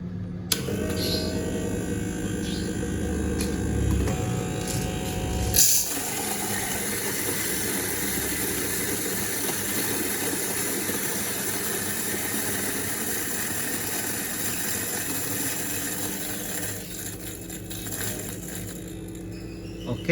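An electric coffee grinder grinds 18 grams of coffee beans for a moka pot, giving a steady, continuous motor whir that runs loud and unbroken the whole time.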